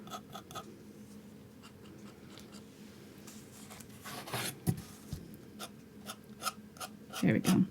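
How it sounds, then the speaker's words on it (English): A palette knife scrapes acrylic paint across canvas in repeated short, dry rasping strokes, close and fairly quiet, with a couple of louder scrapes near the end and faint murmuring in the background. "I'm going to grab my next darkest color, which is this one, and start scraping up with it"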